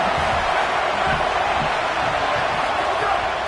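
A football stadium crowd roars steadily as a broad, loud wash of noise that holds at a constant level throughout, with no distinct individual voices.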